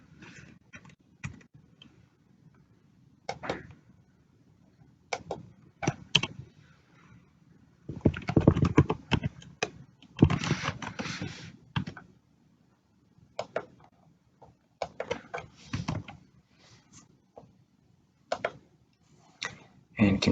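Typing on a computer keyboard: scattered soft key clicks in short irregular bursts, faint and close, with a voice talking intermittently over them.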